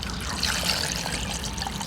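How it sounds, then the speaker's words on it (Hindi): Water is poured into a blender jar holding about a cup of fresh mint leaves and ice cubes for mint lemonade, a steady close splashing trickle that runs continuously without a break. "इसमें अब हम डालेंगे आइस क्यूब्स, साथ ही थोड़ा सा पानी।"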